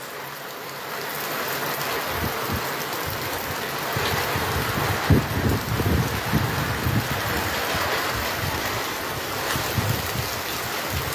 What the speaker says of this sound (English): Serious heavy rains.